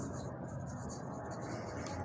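A total is written on a board, a soft continuous scratching and rubbing stroke sound heard close by over a low background hum.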